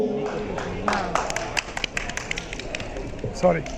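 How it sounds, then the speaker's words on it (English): Wedding crowd in Kashmir clapping and cheering for a band performance, scattered claps and shouts rising in bursts, with voices talking over the noise. "I want to hear with your applause and shout."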